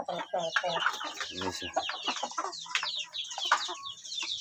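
Three-month-old pullet chickens cluck and chatter in a dense, continuous flock close by, with a voice speaking briefly over them.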